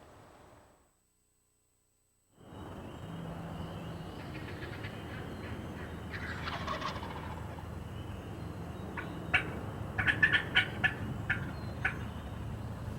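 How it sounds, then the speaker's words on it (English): An eastern wild turkey gobbler in Georgia gobbles in rapid, rattling bursts over a quiet outdoor background, the calls growing more frequent toward the end after a short silent gap at the start. "we have some awesome footage coming up for you on that tough eastern gobbler"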